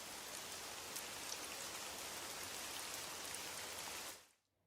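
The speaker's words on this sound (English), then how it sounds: "Listen to the sound of the rain as it hits the leaves." Steady rain pattering on leaves, a dense even hiss of drops close by, running unbroken before cutting off abruptly near the end.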